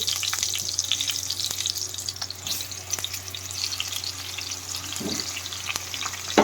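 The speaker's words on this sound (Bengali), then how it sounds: "আমি আলুগুলো ভেজে নেব" Salted potatoes fry in hot oil on a gas stove turned low for biryani, making a steady, continuous sizzle up close with faint crackles and an occasional stir.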